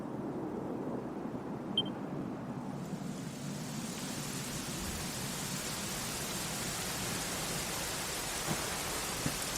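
Steady rain in the video game Dragon Quest XI, a constant hiss that swells louder after the first few seconds and continues evenly with no voices.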